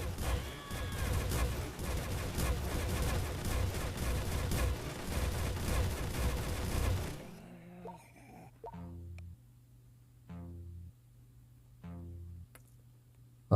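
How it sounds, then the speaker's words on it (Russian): Side-mounted machine guns on a military base in a tower defense video game fire as a dense, continuous rattle of rapid shots for about seven seconds. A few spaced, thudding pulses over a low hum follow. "И как вы видите, у нее стреляют пулеметы по бокам."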